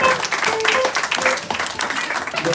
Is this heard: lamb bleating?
no